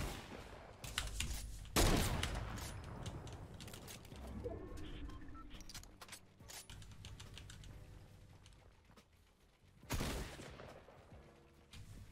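Sniper rifle trick shot in a video game, a loud sharp report early on followed by scattered gunfire, clicks and game effects, with another strong burst near the end.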